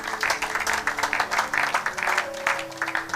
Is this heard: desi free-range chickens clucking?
no